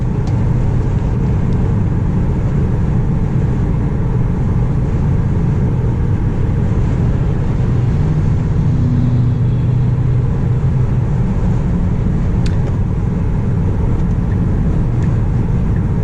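Steady, loud broadband rumble of tire and road noise inside a Tesla Model 3 cabin cruising at highway speed, constant throughout with no voices.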